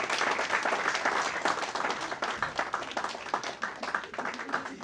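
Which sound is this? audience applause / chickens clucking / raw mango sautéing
audience applause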